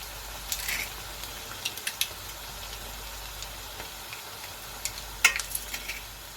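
Garlic and translucent onions frying in a pan for a plant-based chili, a soft steady sizzle with a few brief spoon scrapes and clicks as it is stirred, close and fairly quiet.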